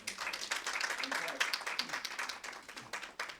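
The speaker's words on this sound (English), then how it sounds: "Let's give her a round of applause." Audience applause at a success summit, steady and moderately loud, with clapping mixed under a voice talking.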